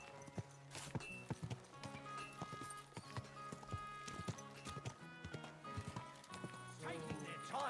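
Horse hooves clip-clop in a steady walking rhythm in Kingdom Come Deliverance 2, close and clear, with an occasional neigh, a spoken voice and game music in the background.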